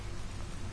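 Rain falls in a rainy scene from the video game Detroit: Become Human, a brief, dense and steady hiss of drops.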